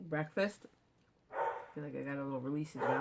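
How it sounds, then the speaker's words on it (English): A dog barks twice in quick, sharp yips at the start, then a person talks at length while the barking stops. "Dog's barking now."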